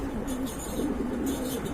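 Pigeons coo softly in a loft, their low murmuring calls repeating at a steady pace with no talk over them.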